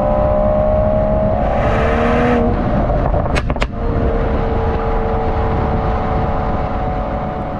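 A 2021 Mercedes-AMG E53 engine and exhaust drone loudly and steadily, a close, continuous rumble heard from inside the car with a couple of brief clicks partway through.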